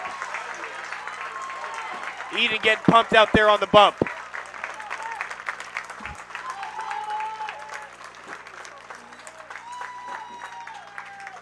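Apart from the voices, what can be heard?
baseball crowd cheering and applauding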